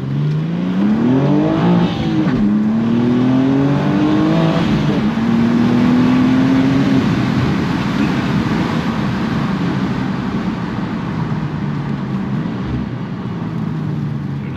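A 2023 BMW M2 (G87) turbocharged sports car engine revs hard and accelerates, pitch climbing through gear shifts with a loud, continuous roar.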